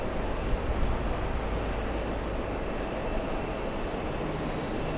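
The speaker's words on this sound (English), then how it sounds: "let's go over to the next takeoff. We have Delta Heavy Airlines 102 Heavy," A Delta heavy airliner taking off at JFK airport gives off a steady, broad jet roar that fills the air without letup, loud and constant from start to finish.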